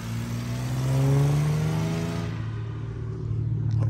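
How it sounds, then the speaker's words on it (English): A supercharged BMW E60 550i revs loudly close by, its engine note climbing and holding with a rising whine before easing back to a lower, steady rumble. "They heard that little supercharger."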